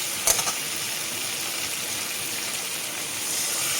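Water poured into a pan of frying spice paste while cooking pointed gourd gives a steady, even hiss and sizzle after a brief splash at the start.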